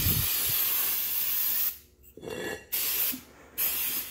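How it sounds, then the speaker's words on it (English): Starting fluid or carburetor cleaner sprays in loud hissing bursts onto a mini bike rim, with short gaps between sprays. "get starting fluid or carburetor cleaner and then just spray it in there"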